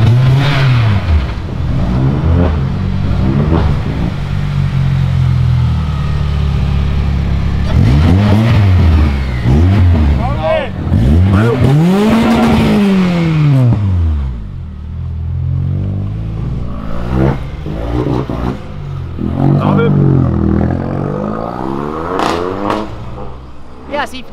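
A Lamborghini accelerates and revs hard along a city avenue, loud engine sweeps rising and falling repeatedly, with a big rev peak midway, amid crowd chatter and other passing cars.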